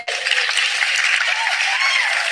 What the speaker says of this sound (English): let me give you the applause that you deserve.